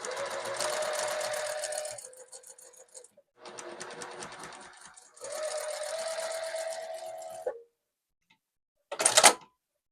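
Sewing machine piecing a quilt block, running in three steady stitching bursts of a few seconds each with short pauses between, then a brief sharp clatter near the end; close and fairly loud, no talking.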